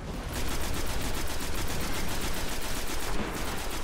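Rapid, evenly spaced bursts of automatic gunfire from the video game Destiny, loud and continuous for a few seconds with no talk over them.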